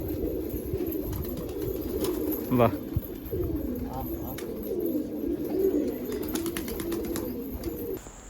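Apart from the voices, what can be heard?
pigeons cooing at a pigeon lot sale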